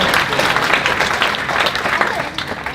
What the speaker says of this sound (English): So you guys give yourselves a round of applause.